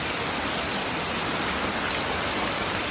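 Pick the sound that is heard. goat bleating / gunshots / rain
rain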